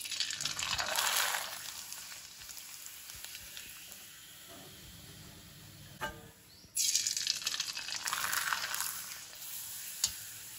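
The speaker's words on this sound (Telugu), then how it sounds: "ఈ పాపడ్స్ అండ్ వడియాలని వేపి చూసాం అనమాట." Papads and vadiyalu, including creamy onion papads, frying in hot oil, with a steady hiss and crackle that swells into loud sizzling bursts, eases off in the middle, then flares up again.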